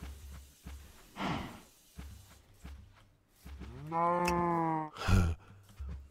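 Cattle mooing in the TerraFirmaCraft video game: a long, loud, sustained low moo in the middle, followed by a shorter bellow and scattered breathy snorts, with a faint low hum throughout.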